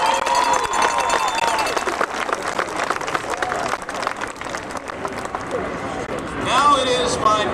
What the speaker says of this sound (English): Let's hear a round of applause for the city.